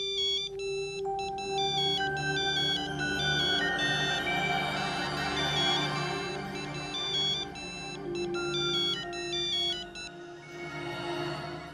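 A bright electronic phone ringtone plays an incoming call, its repeating melodic chime pattern looping steadily for several seconds, loud and clear with no speech over it.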